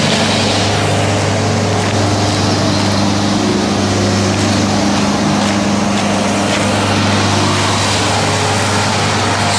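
A tractor's engine drones loudly and steadily as it mows grass around rocks, a continuous low rumble with no pauses and no voices.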